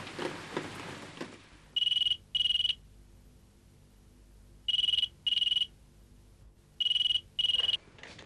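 A telephone ringtone sounds in three pairs of bright electronic trills spaced a few seconds apart, loud and close, with quiet gaps between and no voices.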